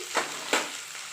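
Sliced onion and green tomato fry in a pan: a steady close sizzle with two sharper bursts from stirring, no voices.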